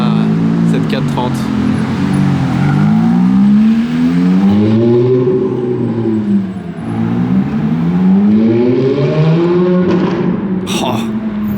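A Ferrari F430's 4.3-litre naturally aspirated mid-rear V8 revs repeatedly on a Monaco street, its pitch sweeping up and down in loud, close, snarling swells.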